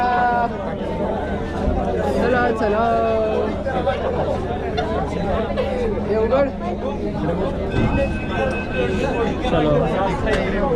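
Dense chatter from a packed crowd fills a Pune metro train during the Ganesh immersion, with many overlapping voices close by and loud, and a few people speaking clearly above the babble.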